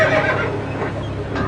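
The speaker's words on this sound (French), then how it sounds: "Les chevaux sont durs à l'ouvrage, et à l'écurie, on en prend bien soin." A working logging-camp horse, the kind used to haul logs and kept in a stable, gives a close, loud, wavering neigh that fills the whole short moment.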